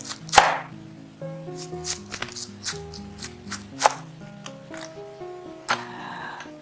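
Red cabbage being chopped for coleslaw on a board, a series of sharp, close knife strikes at an uneven pace, with a tonal hum running beneath.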